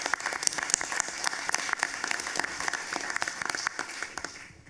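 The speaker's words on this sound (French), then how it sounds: "Je pense qu'on peut applaudir pour remercier ces gens-là de s'être vraiment impliqués au niveau de la ville" Audience at a French-speaking town meeting claps to thank local volunteers, a brisk, crackling run of many hands that holds steady and fades out at the very end, heard alone and slightly distant.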